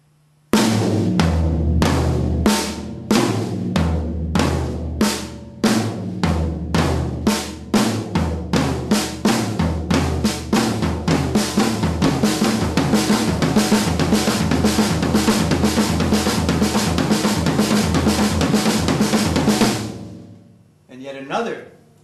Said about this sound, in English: the flam tap is laid out on the drum set in the following manner